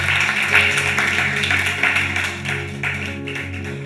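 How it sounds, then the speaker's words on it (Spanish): Church congregation applauding during a sermon, a continuous wash of many hands clapping at moderate level with a low steady hum beneath, no voices over it. "Un aplauso, por favor, para el..."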